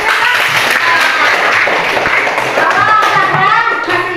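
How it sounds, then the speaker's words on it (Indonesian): A classroom of children claps for a student, a short burst of dense, close hand clapping mixed with children's voices. "Tepuk tangan oleh Zahra."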